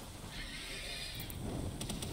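A horse in a video game whinnies loudly over a busy background, followed by a few sharp clicks near the end.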